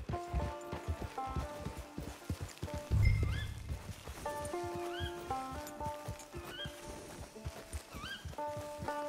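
Horse hooves clip-clop at a walking pace with a brief neigh, set against a steady melodic music score, game audio from Red Dead Online.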